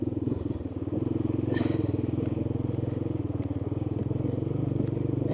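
Small three-wheeler engine running and opening up, a steady throbbing low chug with rapid even pulses and some rattle, close and continuous.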